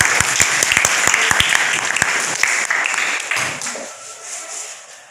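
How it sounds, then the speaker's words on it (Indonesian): Audience applause for a student group taking the stage at a class presentation on the Megawati era, dense clapping that stays loud for about three seconds, then thins and fades out. "Berikan aplaus."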